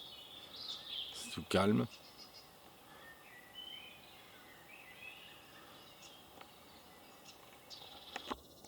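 Faint birdsong and insect chirps drift through a quiet Vosges mountain forest, scattered calls near and far, with one short loud knock and a brief spoken remark.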